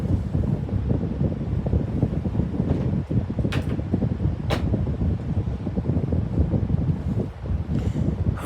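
A vintage 1981-82 Sears oscillating desk fan runs steadily, filling the space with a constant, close airy rush of wind and motor hum that barely changes, broken only by a couple of faint clicks.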